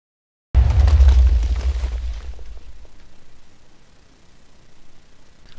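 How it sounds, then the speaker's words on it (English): A Minecraft firework cannon detonating in a video game: a loud sudden boom followed by a rumbling, crackling tail that slowly fades over several seconds. "it detonates it roughly how I described it"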